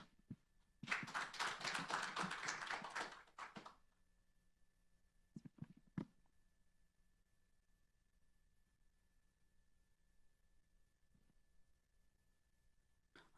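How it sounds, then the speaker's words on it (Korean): A seminar audience at a North Korean mineral resources development forum claps for about three seconds to welcome a speaker, a short burst of applause followed by a few faint knocks and quiet. "박수로 환영해 주십시오"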